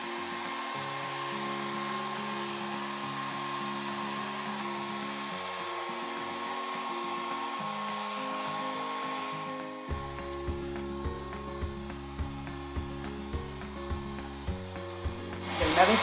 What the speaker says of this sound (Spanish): Le voy a aplicar secador.